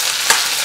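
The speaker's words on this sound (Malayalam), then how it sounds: "ഫ്ലെയിം നല്ലപോലെ കുറച്ച് വെച്ചതിന് ശേഷം നമുക്ക് ഒന്ന് നല്ലപോലെ വഴറ്റിയെടുക്കാം" Chopped rose apple pieces sautéing in a pan for pickle, a steady close sizzle with a brief louder splutter midway.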